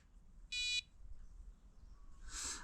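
A fishing bite alarm receiver switched on at a carp lake: a short electronic beep sounds once, followed about two seconds later by a brighter, hissy chirp, against a quiet background.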